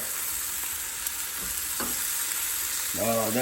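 Chorizo sausage frying in a pan for a breakfast burrito, a continuous close hissing sizzle with a few faint clinks and a brief tonal sound near the end.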